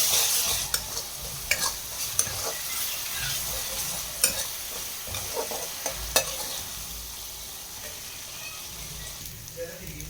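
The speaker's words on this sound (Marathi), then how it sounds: "त्याच्यामध्ये आपण अद्रक लसणाची पेस्ट टाकणार आहोत. ते पण छान असं परतू द्यायचं आहे." Ginger-garlic paste sautéing with softened onion in a pan for pav bhaji, a steady close sizzle punctuated by regular scraping clicks of a spoon stirring against the pan, with faint voices now and then.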